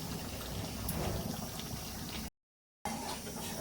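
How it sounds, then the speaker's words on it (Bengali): Potatoes going into a simmering curry in a pan, a continuous bubbling and sputtering hiss, close and fairly quiet, cut by a brief silent gap. "এবার আলুটা তুলে দেবো"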